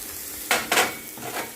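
Onion and scallion hit a hot pan for Jamaican-style curry shrimp pasta, giving two quick loud sizzling bursts with stirring, then a lower steady frying hiss, close by and with no talk.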